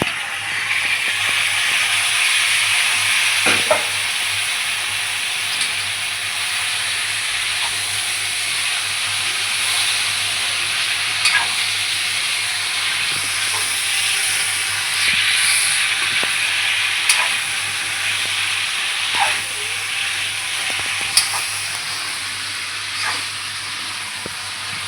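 Potato and ridge gourd bhaji frying in a pan on a gas stove, a steady close sizzling hiss throughout with a few small pops and crackles, and nobody speaking.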